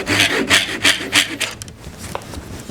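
A hand saw cuts through maple wood plugs in a workshop with loud, close, rhythmic rasping strokes, about four strong back-and-forth pulls that then trail off into lighter scraping.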